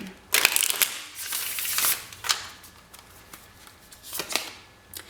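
Tarot cards are shuffled in a few quick riffling bursts, crisp and close, with short pauses between them.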